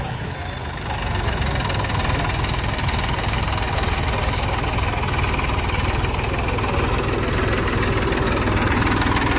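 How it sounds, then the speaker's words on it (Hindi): A Massey Ferguson 244 Dynasmart four-wheel-drive tractor is left turning in circles on its own at a demo, its engine running loud and steady with a deep, continuous rumble throughout. "दोस्तों ट्रैक्टर जो है एक जगह घुमा के छोड़ दिया, अब यहीं घूमता रहेगा ये"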